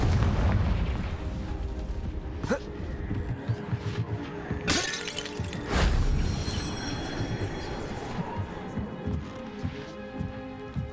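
A Confringo explosion spell goes off in a video game with a loud booming, shattering burst and crackling debris. Game effects and a rumbling low background continue after it, and a voice speaks briefly.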